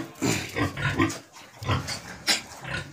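Large Black pigs in pens on a pig farm, with repeated close grunts and snorts in irregular bursts throughout, some louder squeal-like peaks near the end.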